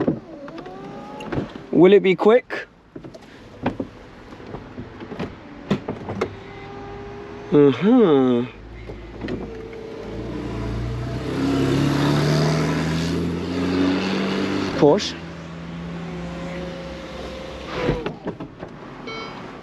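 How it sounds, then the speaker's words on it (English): Electric motors whir in short bursts as the retractable hard-top roof of a Ferrari Portofino M retracts, with mechanical clunks between, while people talk briefly nearby. "what we're going to do is actually take the roof off"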